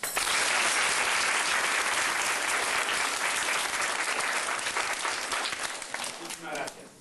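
A crowd applauding at a school book and supplies delivery in Ranchete, loud, dense clapping that holds steady and then fades toward the end.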